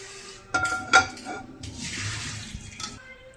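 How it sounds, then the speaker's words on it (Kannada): A cooking pan set down on a home kitchen stove while preparing a Kannada-style stuffed brinjal curry gives two sharp metallic clanks close together, followed by softer rattling and a broad watery hiss. "ನೋಡಿ ಗೈಸ್, ಇವಾಗ ಪ್ಯಾನ್ ಇಟ್ಕೊಂಡಿದೀವಿ."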